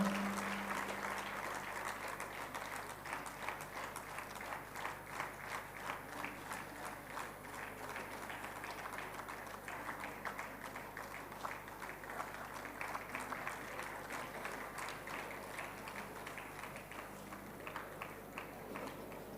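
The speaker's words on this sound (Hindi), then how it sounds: "जोरदार तालियों के साथ हम फादर का आभार व्यक्त करते हैं।" An audience at a church gathering applauds a priest being honoured on stage, the dense clapping sustained and fairly even for nearly twenty seconds with no voices over it.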